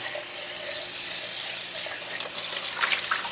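Tap water running while blueberry seeds are rinsed, a steady hissing splash that grows louder and brighter partway through as the flow strikes harder.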